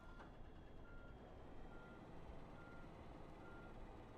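A fuel truck reversing on a virtual airfield in a flight simulator, its steady backup beeper repeating over a low engine rumble, faint and at a distance, with no voices.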